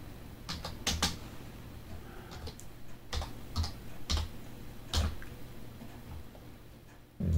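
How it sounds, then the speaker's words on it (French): Keys on a computer keyboard clatter in short irregular bursts of taps, close and fairly quiet, with brief gaps between clusters as a name is entered. "on va taper, par exemple, le nom de l'auteur"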